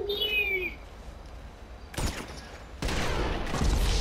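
Gunfire inside Grand Theft Auto V during a beach shootout, two loud broadband bursts about a second apart near the middle and end, the second sustained and rattling, after a quiet stretch opened by whistling, bird-like in-game tones.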